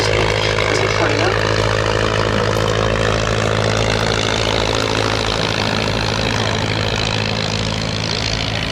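A 1914 vintage biplane, once a bomber and trainer, drones past at an outdoor air show, a loud continuous propeller engine roar with a steady hum filling the whole stretch.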